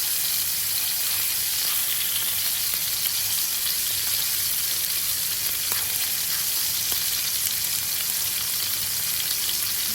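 Food frying steadily in a pan, a continuous close, bright sizzle with faint crackles running through the whole stretch and no voices.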